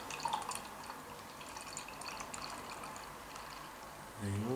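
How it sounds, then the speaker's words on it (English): McEwan's Export ale poured from a tin can into a glass, a steady liquid trickle and splash running for several seconds, close and moderately quiet, with a louder burst near the end. "Here's a pour. McEwans Export from the tin."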